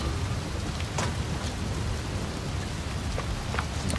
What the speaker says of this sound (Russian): Буря начала.